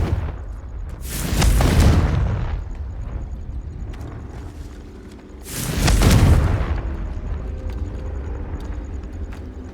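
Confringo blasting spell explosions in the Hogwarts Legacy video game, two heavy booming blasts a few seconds apart, loud and close, each rolling off into a low rumble.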